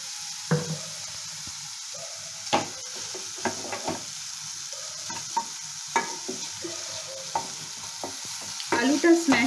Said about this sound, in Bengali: আলুটা স্ম্যাশারে আমি স্ম্যাশ করে নিচ্ছি।